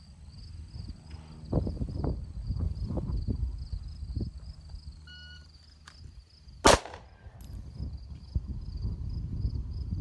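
A single pistol shot drawn from a concealed holster in a timed drill rings out sharply once, preceded by rustling and shuffling footsteps, with a steady electronic timer tone running alongside.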